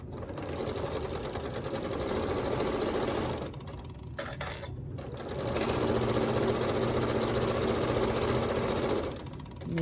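A sewing machine stitches down a quilt block in steady, close, fast runs, pausing briefly near the middle before resuming at full speed.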